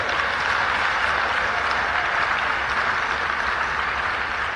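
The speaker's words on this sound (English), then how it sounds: "I'd like you to give a big round of applause up front for our rapporteurs" A conference audience applauds the rapporteurs. The clapping is dense, steady and sustained, with no speech over it.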